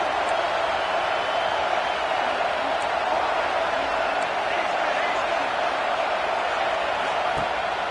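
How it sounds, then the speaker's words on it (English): Stadium crowd noise at Saban Field in a college football video game, a steady broad roar of many voices on third down, constant and loud throughout with no breaks. "The Tide crowd rolling noise down onto Saban Field on third down."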